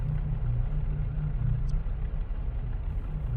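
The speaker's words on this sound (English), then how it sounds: "we hear the weird hum of some sort of engine nearby" A low, steady engine hum drones close by, a deep rumbling idle that holds at the same level throughout with no other sounds over it.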